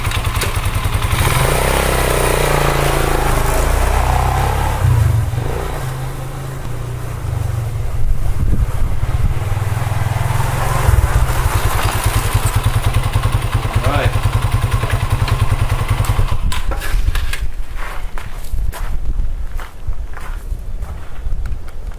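A Chinese 150cc enduro dual-sport motorcycle engine idles loudly and steadily close by, then revs and pulls away as it is ridden off, with wind buffeting the microphone toward the end.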